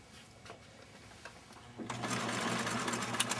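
A home sewing machine stitches a fabric doll together, starting partway through with a close, steady, busy whir that continues to the end after a quieter lead-in.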